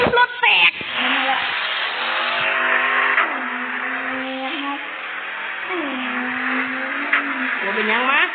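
A car engine is revved hard and close by, rising and falling in repeated surges of throttle. It stays loud and steady throughout, with a short rough start.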